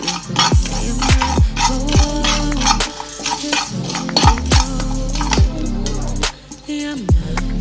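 Cumin seeds and pepper dry-roast in a pan for a Katla fish curry, with a metal spoon repeatedly scraping and clinking against the pan in a steady, close stirring rhythm.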